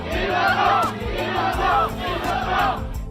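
A crowd in a courthouse shouts in response to a guilty verdict, with loud massed voices rising and falling in about four rhythmic, chant-like waves.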